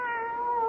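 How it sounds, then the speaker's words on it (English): A thin, scrawny, hungry kitten gives a single drawn-out meow, close and clear in a quiet indoor setting. "Poor, scrawny, hungry-looking kitten."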